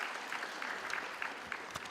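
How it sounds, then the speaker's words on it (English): A graduation crowd at a university ceremony claps steadily, many hands blending into a continuous, moderately loud patter with occasional sharper claps standing out. "can you give a round of applause for that group?"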